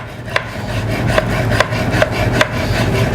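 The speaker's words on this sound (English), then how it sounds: "then cut your tartare into strips" A knife slicing raw tartare meat into thin strips on a board, a steady rubbing scrape with soft periodic taps as the blade meets wood, close and clear with no voices.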